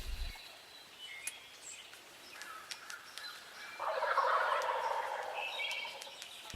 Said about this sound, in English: hearing the turkeys on the roost gobbling their heads off.